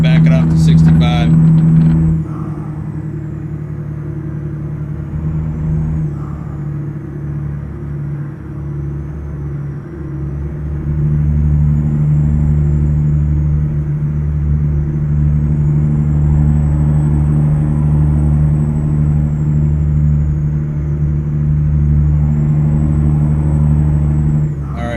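A heavy truck engine at high RPM with stock Eaton transmission in American Truck Simulator drones steadily for the whole stretch, a loud low rumble with faint talk over it and a slight rise in level midway.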